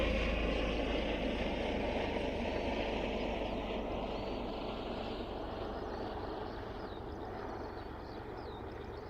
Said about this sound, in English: it's just some generic helicopter out for flight.